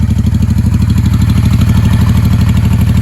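A Honda Sabre 750 V4 motorcycle engine idles steadily up close, a low, throbbing rumble with a regular pulsing beat and some mechanical clatter on top.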